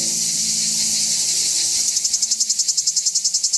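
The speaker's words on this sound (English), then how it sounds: "Listening to recordings of cicadas" Cicadas shrill in a dense, high buzzing drone that breaks into a rapid pulsing rhythm partway through, steady and fairly close, with no voices over it.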